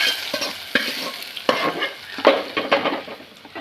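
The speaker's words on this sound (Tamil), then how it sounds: "தாளிப்பு மட்டும் இதில் ஊற்றி விட்டால் போதும்." Hot tempering poured into potato kurma, giving a sizzle with scattered clinks and stirring scrapes, close and moderately loud, with no talking.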